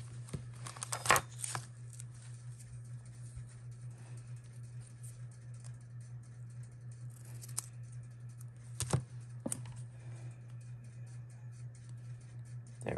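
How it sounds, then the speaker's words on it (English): Scissors cut the edge off a small paper mini composition book from Dollar Tree, a few quiet snips and crinkles over a steady low hum, near and soft. "Before I do that, I'm going to cut that edge off."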